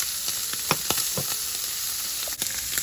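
Pork sausage sears undisturbed in a skillet for a Cajun shrimp and sausage vegetable dish, a constant close sizzle dotted with sharp pops and crackles.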